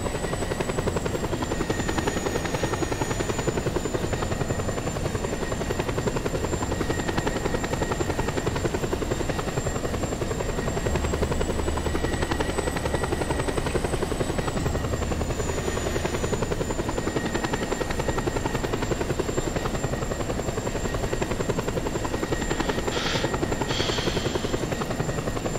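Steady, loud helicopter rotor drone in the video game Just Cause 2, a continuous whirring hum with a high whine riding above it, unbroken for the whole stretch and with no talk.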